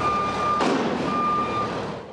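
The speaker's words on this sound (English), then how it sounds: "the sounds of construction are ubiquitous here" A construction vehicle's reversing alarm beeps steadily at a building site near Revere Beach, with long tones over a rumbling truck engine and a brief air-brake hiss partway through.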